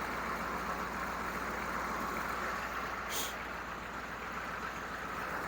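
A CUCV truck's 6.2 diesel engine idles steadily after its fuel injection pump was bled and restarted, a constant low rumble with one brief hiss midway, no talking over it.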